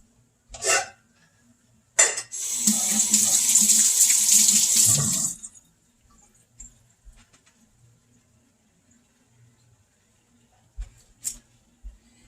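A kitchen sink tap runs for a few seconds while hands are washed, with a brief splash first, then a steady gush that stops abruptly and leaves a few faint knocks.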